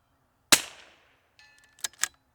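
A rifle shot at a steel target plate 150 yards out cracks sharply once, then a fainter metallic ping and a couple of quick clicks follow in the quiet.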